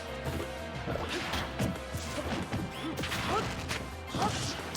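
Repeated sharp smashing hits and whooshes from forward smash attacks clanking together in Super Smash Bros, a collegiate esports playoff match, dense and busy with game effects and faint background voices.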